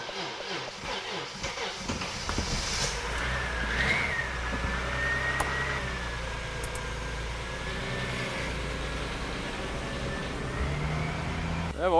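A car drives with a steady, high electric whine like a vacuum cleaner over low road rumble, and a few faint voices come and go.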